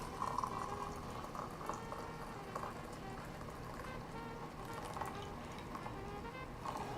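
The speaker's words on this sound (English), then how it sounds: "So now we fill this to the brim with the boiling water." Boiling water pours into a teapot until full to the brim, a faint, steady bubbling and trickling fill heard close up with no talk.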